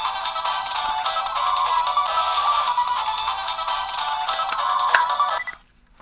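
A phone rings for a call, its electronic ringtone trilling continuously and fairly loud for several seconds before cutting off abruptly into silence.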